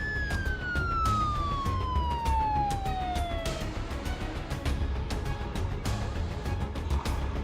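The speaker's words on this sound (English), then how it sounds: "Two fire trucks, lights blazing, sirens screaming." A fire truck siren wails in a long falling tone, loud and fairly close over traffic rumble, then fades into a noisy street with scattered sharp clatters.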